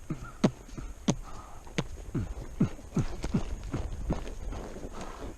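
Mules walking, their hooves clip-clopping in an uneven series of sharp knocks, close and fairly loud over faint background hiss.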